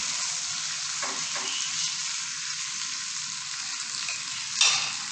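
Fried okra is stirred into a sizzling onion-tomato masala for bhindi masala, giving a constant bright frying hiss with a few soft scraping stirs and a sharper clatter near the end, with no voices.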